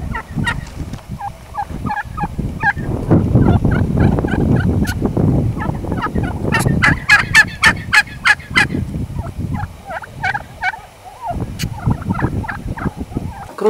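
Turkeys gobble repeatedly outdoors on a farm where goats, turkeys and cows roam the yard in mild winter weather, with loud, rapid bursts of gobbling calls over steady rural background noise.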